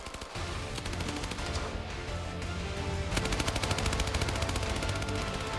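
K3 light machine gun firing 5.56mm rounds from a standing position, long rapid bursts of loud automatic fire with a brief pause between sustained strings of shots.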